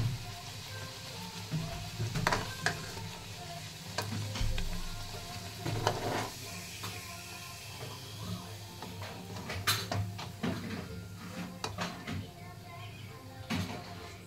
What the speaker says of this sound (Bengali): এবার এটাকে ভালোভাবে পুরিটাকে সেঁকে নিতে হবে তেলের মধ্যে।